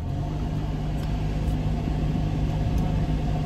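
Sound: car engine running, heard inside the car

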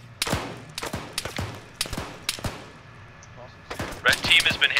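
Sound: heavy gunfire in the video game ArmA 3

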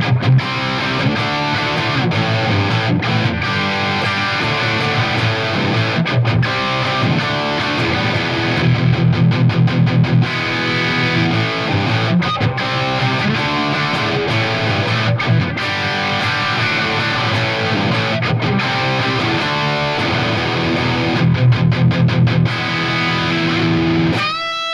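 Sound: distorted electric guitar through Mesa Boogie amp

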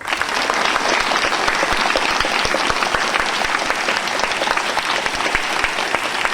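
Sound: audience applauding loudly for karate medal winner

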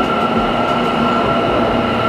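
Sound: locomotive train passing

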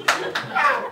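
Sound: one man in the audience clapping

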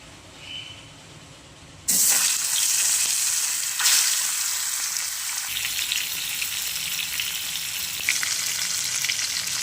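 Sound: fish frying in hot oil

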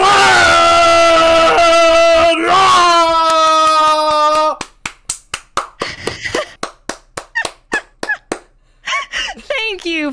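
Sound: audience applause welcoming a guest

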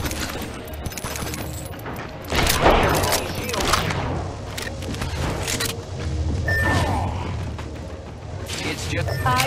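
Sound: gunfire in the Apex Legends video game

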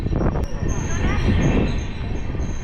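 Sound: train running, heard from inside the train

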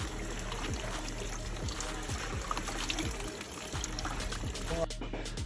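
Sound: pouring water into natural silk dye

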